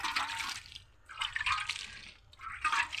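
Water is poured from close by onto a bed of fenugreek seeds in three separate splashing bursts, with short pauses between them.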